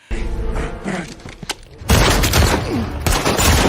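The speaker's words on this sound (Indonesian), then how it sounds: "terjadi aksi baku tembak hingga membuat Seamus kehilangan banyak anak buah" A burst of rapid gunfire erupts loud and close, several cracking shots in quick succession, after quieter scattered thumps and rumbling.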